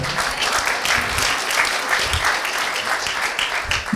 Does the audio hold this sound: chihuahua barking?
no